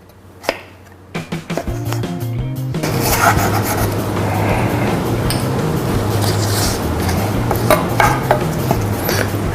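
A kitchen knife slices a vegetable lengthwise on a board while preparing Chinese noodles, giving a run of close, crisp cuts and light clatter after a few sharp initial knocks.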